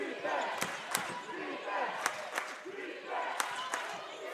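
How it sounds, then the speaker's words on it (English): Fans roar and cheer in the Bosch arena during a women's college basketball tournament semifinal, with sharp ball bounces and a commentator speaking over the crowd. "As the crowd starts to come alive here at the Bosch."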